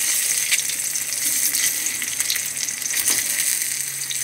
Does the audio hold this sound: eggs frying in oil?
yes